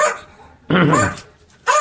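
Two sharp, close dog barks separated by a short pause, loud against a quiet background.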